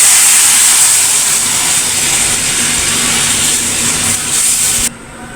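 Water poured into a hot pan used for roasting rava sends up a loud, steady hiss of steam that runs for several seconds, then drops off sharply near the end.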